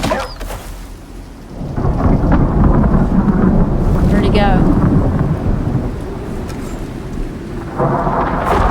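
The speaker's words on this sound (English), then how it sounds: "Bad storm. We gotta get inside. We're gonna get struck by lightning." A thunderstorm in the video game ICARUS, with heavy rolling thunder and steady rain roaring loudly and continuously. Brief wind gusts come through, and a voice speaks over the storm.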